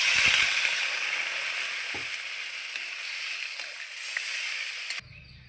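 Potato and raw banana pieces fry in spiced oil for a Bengali fish curry, a steady close sizzle running throughout with a few faint stirring knocks, then cutting off abruptly near the end.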